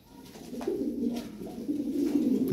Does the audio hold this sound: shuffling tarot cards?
no